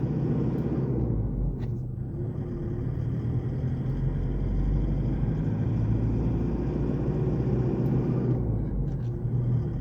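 A 2012 Isuzu KB300 LX D-Teq diesel being driven gives a steady, continuous low rumble with engine drone throughout, close and unbroken, with no voices.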